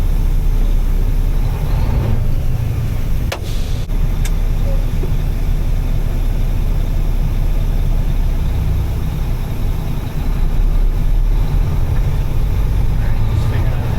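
A grain truck built on a day cab with a grain box, an automatic with a clutch pedal, rumbles along with loud, steady low road and engine noise and a few brief clicks.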